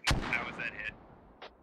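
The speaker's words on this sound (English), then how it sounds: "Not sure where that mortar's gonna land." A mortar shell landing in the military shooter game Squad, one sharp loud boom at the start followed by rumbling tail and a fainter distant thump near the end.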